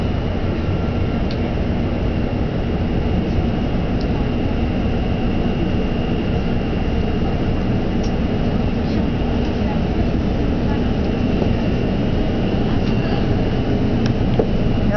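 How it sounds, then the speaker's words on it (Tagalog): Steady interior rumble of a bullet train in motion, a constant broadband roar with a faint high whine, loud and unbroken throughout with no voices. "this is the bullet train"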